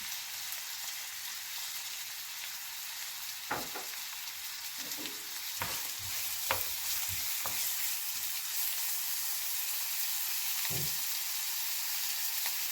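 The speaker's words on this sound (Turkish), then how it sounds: "Yağımız yandıktan sonra soğanımızı ilave edelim." Onions frying in hot oil for a potato elacma börek, a constant close sizzle with a few sharp clinks and scrapes of stirring scattered through it.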